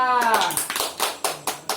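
Scattered classroom clapping for a student, a few sharp hand claps spaced out after a teacher's voice, fairly close and modest in volume.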